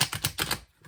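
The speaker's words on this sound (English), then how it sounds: "I like to give them a really good shuffle on camera" A deck of tarot cards gets a brisk shuffle, a quick run of crisp papery riffles and slaps in a steady rhythm, close and fairly loud, then it stops abruptly.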